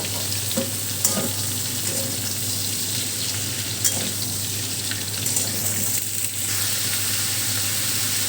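Snake gourd with potato and other vegetables frying in a pan, a steady close sizzle broken by intermittent spatula knocks and scrapes as everything is stirred together.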